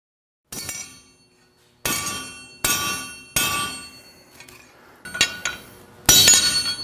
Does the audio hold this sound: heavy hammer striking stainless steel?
yes